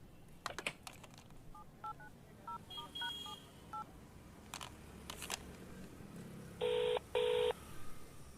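A run of short telephone keypad tones is dialed, followed by two longer ringback tones, with faint clicks and rustling in a quiet room.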